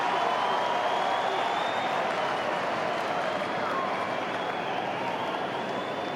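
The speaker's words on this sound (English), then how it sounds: "The crowd likes it." Crowd at a 2013 AFL Round 18 match between Carlton and Gold Coast roars and applauds steadily, a dense, loud wash of cheering that holds through the whole stretch without letup.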